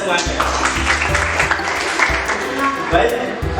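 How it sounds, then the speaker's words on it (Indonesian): A classroom of pupils claps together in a short rhythmic pattern, the claps regular and close while voices chant over them. "Tepuk tangan untuk kita semuanya."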